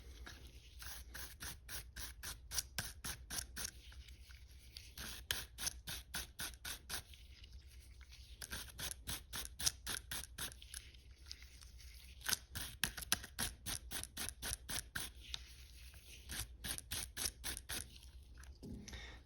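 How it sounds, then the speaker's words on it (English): A well-worn brush scrubs both sides of an LCR22 revolver during cleaning. It makes quick, crisp, rhythmic strokes in repeated bursts with short pauses between them, close up and without talking. "I just take a nice beat up brush, and I'm cleaning both sides here simultaneously."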